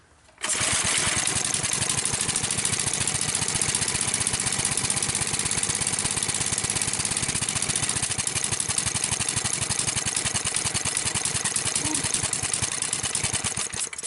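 Briggs & Stratton small engine running without its spark plug wire, a fast, even mechanical chatter that starts abruptly and holds a steady idle, close and loud with no talk.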